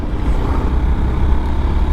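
Buses and trucks on a busy road give a loud, low traffic rumble of heavy engines passing close by, steady and continuous without any voices.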